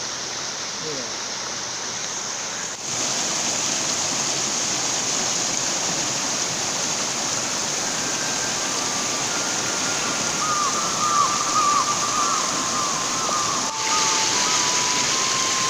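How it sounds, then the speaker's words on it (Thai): A steady, full roar of falling water from the second tier of Sap Sombun waterfall fills the scene without pause, close and constant, with a faint high tone passing briefly in the middle. "น้ำตกชั้นนี้เป็นชั้นที่สองของน้ำตกซับสมบูรณ์ครับ"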